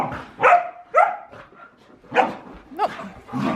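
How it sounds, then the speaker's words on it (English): Several dogs, including a golden retriever, bark in sharp separate yips and woofs spaced about half a second apart, close and loud in a quiet room. "Bailey, you golden, stop the barking."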